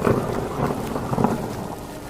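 Heavy rain in a thunderstorm hisses steadily throughout, with low thunder rumbling underneath and swelling briefly, at moderate loudness with no voices.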